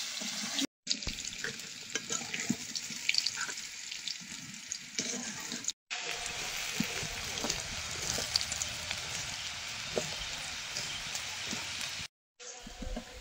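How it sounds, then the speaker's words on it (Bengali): Potatoes fry in oil with a quiet, constant sizzle and occasional stirring scrapes and taps, the sound cutting out briefly a few times before resuming. "আলুগুলো ভাজা হয়ে গেছে, তুলে নেব।"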